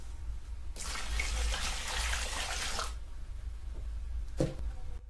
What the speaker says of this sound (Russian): Дальше еще добавляю немного чистой воды.